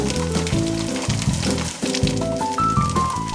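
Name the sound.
Italian sausage and chopped onion frying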